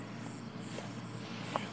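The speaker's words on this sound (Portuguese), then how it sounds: "Vai ter até grilo." Crickets chirp in pulsing bursts at a mansion, a high shrill trill repeating roughly every half second over a low background hum.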